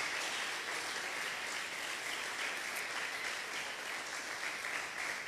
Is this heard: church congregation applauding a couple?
yes